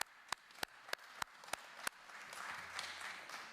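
Several sharp, evenly spaced hand claps ring out in a committee meeting room, followed by a short burst of scattered applause that fades away.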